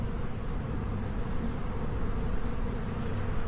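Honey bees swarm a hive frame, more than a thousand nurse bees making a dense, steady, close buzzing drone that stays constant throughout.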